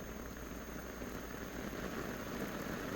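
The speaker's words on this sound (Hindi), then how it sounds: "जहां पर उत्तर प्रदेश में बारिश का दौर शुरू हो गया है" Steady rain falling in Hapur, Uttar Pradesh, after a spell of intense summer heat: a continuous, dense wash of drops hitting surfaces, holding at an even level throughout with no voices.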